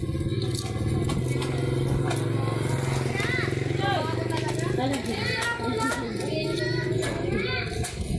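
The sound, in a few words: motorcycle passing by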